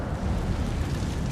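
Incendio fire spell cast in the Hogwarts Legacy video game, a dense, steady roaring whoosh of flame that stays loud and continuous throughout the short burst.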